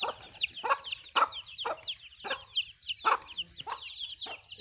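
Several hens cluck in repeated short bursts at a steady pace, with constant chirping of small birds behind them, moderately quiet.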